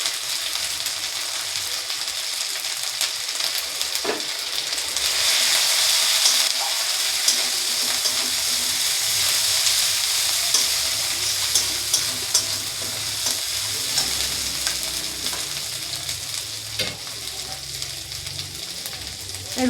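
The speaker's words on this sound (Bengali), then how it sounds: "ভালো করে মশলাটাকে কষে দেবো।" A paste of ground chilli and turmeric for doi katla fries in a pan, giving a continuous loud sizzle with scraping stirring strokes and occasional clinks of the spoon, sustained and close throughout.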